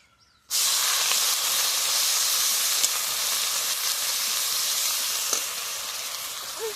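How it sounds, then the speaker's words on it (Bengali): Onion paste hits hot oil with a sudden loud sizzle, a steady bright frying hiss that carries on evenly for several seconds while prawn malai curry with mustard paste is being cooked. "এবার দিয়ে দেবো পেঁয়াজ বাটা"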